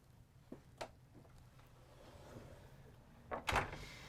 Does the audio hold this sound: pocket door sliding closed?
yes